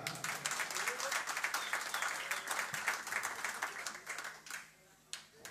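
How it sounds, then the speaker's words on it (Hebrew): Audience applause at a live singing-competition show, a crowd clapping with brisk, crackling hand claps that hold steady for several seconds and then thin out and fade toward the end. "כפיים!"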